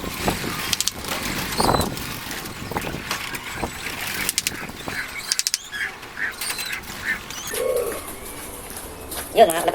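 Racing pigeons are released outdoors, with cooing, brief wing flutters and scattered calls, while someone talks over them.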